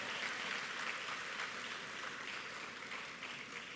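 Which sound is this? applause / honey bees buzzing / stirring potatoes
applause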